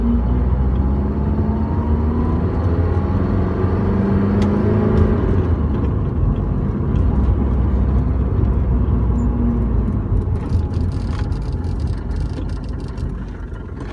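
A Mercedes 190 Diesel 2.2 with a five-speed manual drives along, its engine droning steadily with a low, rising and falling hum as it pulls through the gears, joined by road and wind noise.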